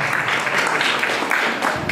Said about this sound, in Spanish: Un fuerte voto de aplauso para ella también